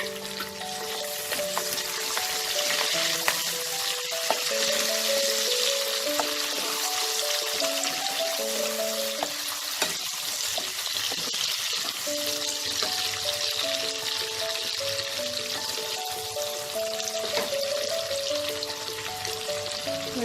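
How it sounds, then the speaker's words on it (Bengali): Onion and tomato fry in a pan, the onion browning, a steady close crackling sizzle over a long stretch with soft music playing underneath. "পেঁয়াজটা লাল করে ভেজে নেব।"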